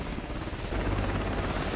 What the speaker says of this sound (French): Attends, c'est un hélicoptère?